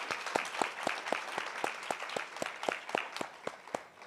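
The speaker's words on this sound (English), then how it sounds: "please give a round of applause to my amazing co-panelists." An audience applauding at the Global Black Economic Forum Summit: steady crowd clapping with several distinct claps standing out nearby, lasting a few seconds.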